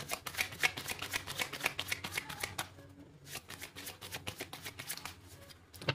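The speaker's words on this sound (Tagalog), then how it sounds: "Ang hirap ng balasahin tong card natin na to." Tarot cards being shuffled by hand, a dense run of crisp riffling flicks close to the ear, briefly pausing midway before the steady shuffling resumes, with no voices.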